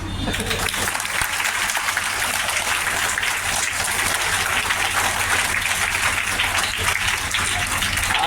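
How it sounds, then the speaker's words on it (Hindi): A large crowd at a religious gathering in Nawada with the Shankaracharya applauds itself, a dense, even roar of clapping hands sustained for the whole stretch, loud and continuous, with a low steady hum underneath. "अपने लिए ताली बजा सकते हैं"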